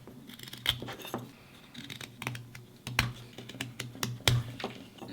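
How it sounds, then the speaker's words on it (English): Knife carving a wooden spoon blank, chamfering the corners in a series of sharp, close scraping and clicking cuts at an irregular rhythm, with short quiet gaps between strokes. "you're moving the wood into the knife just to kind of chamfer those corners"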